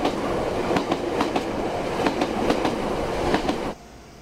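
A Kobe Electric Railway train runs along the rails with a steady rumble and a repeating clickety-clack of wheels over rail joints. The noise cuts off abruptly near the end.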